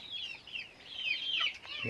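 A brooding hen sitting on eggs to hatch chicks in a village poultry shed gives soft, continuous clucking and murmuring calls, fairly close and steady, with a slightly louder burst near the end.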